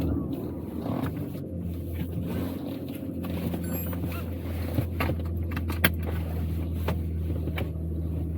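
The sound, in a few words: Aston Martin DB9 V12 car engine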